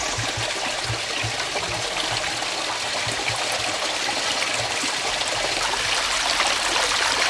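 A thin trickle of river water flows steadily as the river leaves Bullas, a soft continuous rushing and babbling with no voices.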